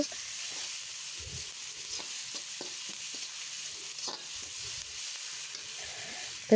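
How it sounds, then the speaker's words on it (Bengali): Onion, green chili, ginger paste and garlic fry in a pan with a soft, steady sizzle, broken by scattered scraping taps of stirring and a sharp knock at the very end. "এখানে পেঁয়াজ আর কাঁচা মরিচটা আমি ভাজা ভাজা করে নিম আর একটু আদা বাটা রসুন আমি দিয়ে এটাকে ভালো করে ভাজা ভাজা করে নিব"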